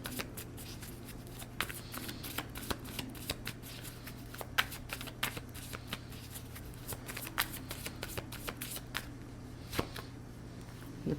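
Tarot cards being shuffled by hand during a reading, a steady run of soft riffling and sharp flicking snaps over a constant low background hum, close and fairly quiet, with no talking.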